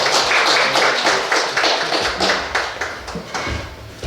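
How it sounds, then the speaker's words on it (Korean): Church congregation at a Korean worship service clapping to welcome a missionary forward, a dense, loud burst of applause lasting a few seconds with no talk over it. "선교사님 나오실 때 박수 한번 쳐주시죠."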